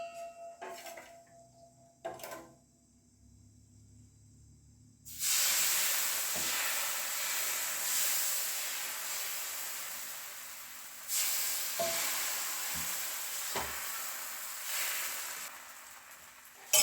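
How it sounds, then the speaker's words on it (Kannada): Instant ragi dosa batter poured onto a hot pan bursts into a loud, steady sizzling hiss that runs for several seconds, close up, after a few quiet clinks of utensils. "ದೋಸೆಯನ್ನು ಹೊಯ್ದುಕೊಳ್ಳೋಣ."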